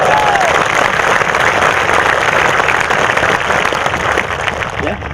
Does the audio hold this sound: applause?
yes